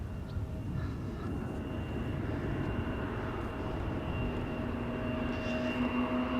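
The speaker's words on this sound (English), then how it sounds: "No, it's an Embraer 175 going to Gdansk." An Embraer 175 jet airliner passes at the Polderbaan runway at Schiphol as a steady distant roar that slowly swells toward the end, heard alone outdoors.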